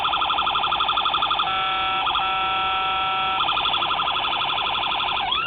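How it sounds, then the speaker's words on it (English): A custom Sûreté du Québec police-livery VW Beetle model sounds its electronic siren, a rapid pulsing yelp that shifts to steady high tones and then returns to the fast yelp, loud and continuous with no talk. "It adds the other sirens in there."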